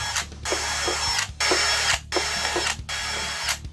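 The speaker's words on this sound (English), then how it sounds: "Now we're going to drill some pilot holes for the fasteners." A power drill drills pilot holes in wood in several bursts of whirring, each a second or so long with short pauses between, close and loud.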